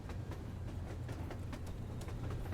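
Train rolling along in the video game Metro Exodus, a steady low rumble with faint rhythmic clatter running throughout, fairly quiet and without voices.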